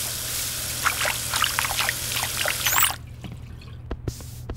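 In an animated children's cartoon, water runs from a tap as hands are washed, a close, continuous splashing trickle that stops abruptly partway through, followed by a few faint clicks and small drips.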